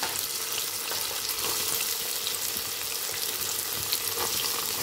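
Chopped onion pieces frying in hot oil in a pan, a steady dense close sizzle with soft stirring scrapes underneath, no voices.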